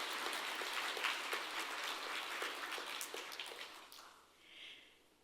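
Audience applause at an award ceremony, a dense patter of many hands clapping that gradually thins and fades away.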